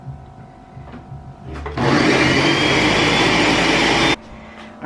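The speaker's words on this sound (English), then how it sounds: "this is what the sauce, the tomatoes and the onions look like after it's blended" Kitchen blender whirring tomatoes and onions into enchilada sauce, a loud steady motor roar that kicks in sharply and runs for a couple of seconds before cutting off abruptly, with quieter room noise before and after.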